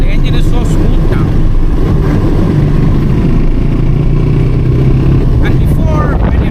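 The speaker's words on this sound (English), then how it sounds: "The engine is so smooth now." A Suzuki V-Strom 250 motorcycle engine runs steadily and loud throughout, a low continuous drone with some wind noise, while a rider talks over it.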